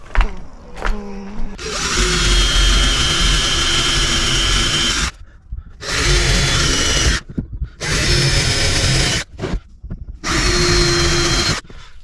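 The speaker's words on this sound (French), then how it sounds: "Alors, la perceuse." A power drill whines loudly in several long bursts, each running a second or more, separated by short pauses, close by inside a 4x4 van being fitted with furniture, with no talking.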